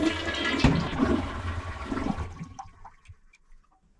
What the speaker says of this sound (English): it's just a matter of flushing the toilet until the whole tank drains